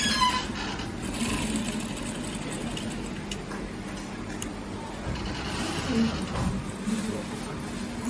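A sewing machine stitches a cupped corset, a steady low mechanical whir running throughout at moderate level beneath faint background voices.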